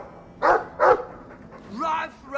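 A dog in the video game Dragon Age 2 gives two loud, close barks in quick succession, then a voice follows with speech-like sounds.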